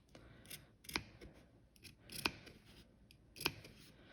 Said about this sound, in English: The tip of my scissors are getting all the way up to that stitch line, but not cutting through my actual stitch line